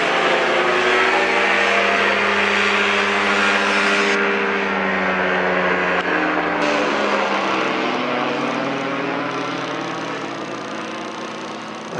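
An ultralight aircraft sweeps past low at an air show in Feillens, its engine drone loud and close, the pitch sliding downward as it passes and then fading away.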